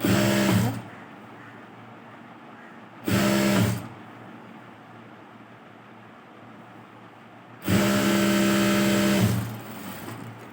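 A sewing machine stitches a blouse, running over an existing seam, in three loud mechanical bursts of whirring, short, short, then a longer run near the end, with quiet pauses between.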